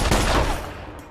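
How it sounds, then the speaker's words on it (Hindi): A burst of gunfire from an action movie, loud and close at first and then fading over about a second. "क्यों गोलियां चला रहे?"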